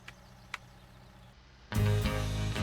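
A tractor hitched to a maize seeder idles at planting time, a quiet low hum with a couple of faint clicks before a loud, steady diesel rumble abruptly comes in close to the microphone.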